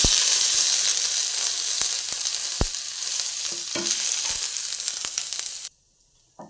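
Mustard seeds and crushed spices fry in coconut oil with a dense, loud crackling sizzle and sharp pops of spattering seeds, fading slightly before stopping suddenly into quiet.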